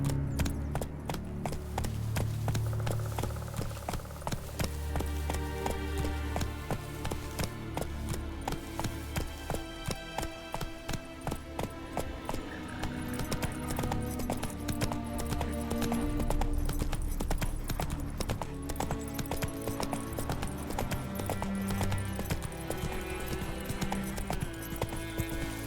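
Roach, a horse in The Witcher 3 video game, gallops steadily, hooves clip-clopping in a fast, even rhythm over a long stretch, close and clear, with game music and ambience beneath.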